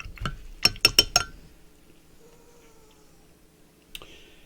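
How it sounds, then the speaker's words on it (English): A paintbrush rinsed in a water jar rattles with four quick bright clinks of glass in a fast cluster, then quiet with a faint hum, and one last softer clink near the end. "rinse your brush out."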